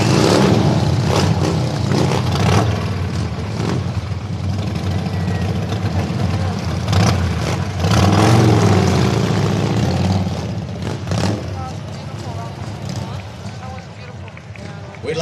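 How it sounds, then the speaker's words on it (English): Motorcycle engines rumble and rev at an outdoor Veterans Day parade, a loud, continuous low drone with surging swells, mixed with crowd noise and voices. "Oh, let's hear those engines."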